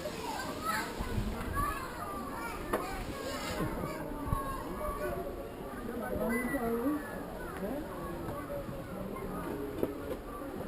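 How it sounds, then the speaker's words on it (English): Children shouting, calling and playing at a waterfall in the Caribbean, a lively steady chorus of young voices at a distance with birds chirping above them. "Kids' Day at the waterfall."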